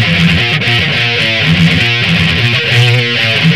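Electric guitar playing a riff, dense distorted chugging with sustained notes and vibrato over a full backing mix, loud and continuous with no talk.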